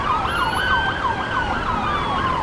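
Ambulance sirens at a Catholic church and school shooting scene wail in a repeating rising and falling pattern, loud and fairly close over steady street noise.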